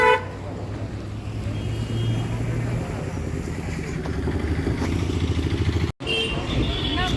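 A Honda Activa scooter rides through traffic, a steady engine and road drone filling the clip, with a horn tooting near the start and other vehicle noise around, and a voice faintly audible at moments.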